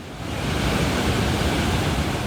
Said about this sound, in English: The raging Ross River is still a sight to behold.